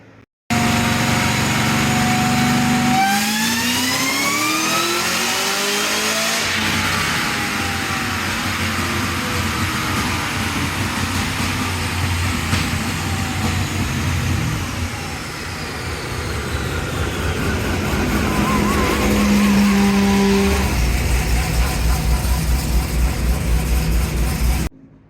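A 1000 hp Kong supercharged engine on the dyno, a loud sustained roar with rising and falling engine pitch through the pull, dense and unbroken for most of the run with no talk.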